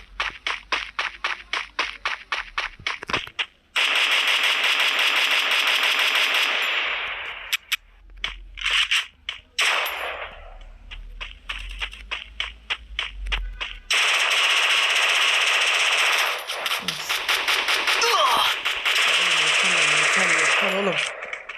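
Rapid automatic gunfire rattles in long bursts in the mobile shooter game Free Fire, loud and close, with short gaps, scattered single shots and a player talking at times.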